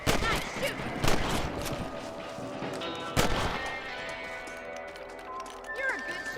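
Sharp rifle shots ring out in Red Dead Redemption while hunting rabbits on a ranch, several separate loud cracks spaced apart amid outdoor ambience and hoofbeats, with someone talking over it.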